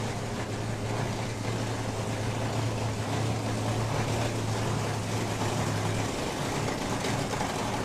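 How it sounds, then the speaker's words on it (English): A 1978 Trans Am drag car backing up slowly at a drag strip, a loud steady engine drone with a low rumble that holds for several seconds and then drops away, amid outdoor crowd noise. "So the 1978 Trans Am backing up in the energy check lane."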